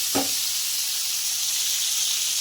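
Baby bitter gourd frying in hot oil over a high flame, a steady bright sizzle throughout, with one brief soft clunk near the start.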